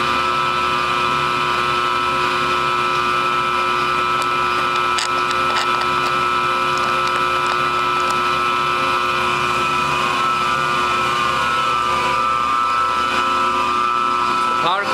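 A machine cutting thermoplastic rubber runs with a steady mechanical hum and whine, a continuous even drone with faint clicks, close and moderately loud.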